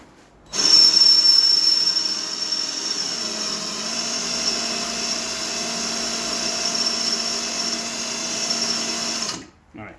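A power drill with a worn bit whines steadily for about nine seconds, starting abruptly and stopping at the end, close and fairly loud, on a Triumph TR6.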